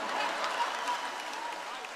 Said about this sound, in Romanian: În aplauzele tuturor, aplauze de care n-a mai văzut sala Palatului Național.